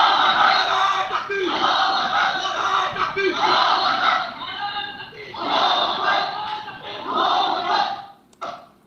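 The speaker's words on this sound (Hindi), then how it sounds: "तो एनआईटी में ये हो रहा है, पढ़ने की जगह नाराए तकबीर।" A large crowd on an NIT campus chants the Nara-e-Takbir slogan, loud massed voices rising in repeated waves of call and roaring response, several swells in a row before cutting off sharply.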